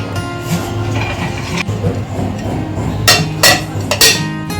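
A lid goes onto a pot of mango candy mixture with a few sharp, close metallic clinks and taps near the end, heard over a low background hum.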